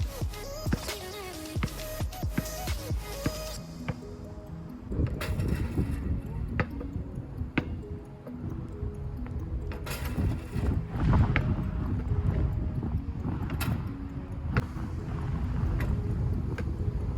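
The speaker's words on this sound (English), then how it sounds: "It's so windy today" Wind gusts against the microphone on a windy outdoor day, a loud, rumbling buffeting that runs almost without a break, with scattered thumps and clatters and faint voices in the background.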